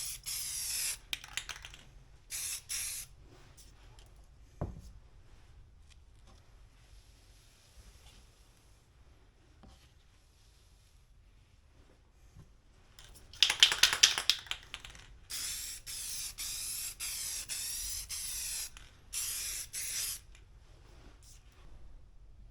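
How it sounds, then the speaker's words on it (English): Clear coat sprayed from a can onto a custom GPS unit bezel for a motorcycle: close, loud hissing bursts of several seconds each, separated by quieter gaps, with a brief rattle of the can mid-way. "then applied the second and last clear coat to the bezel."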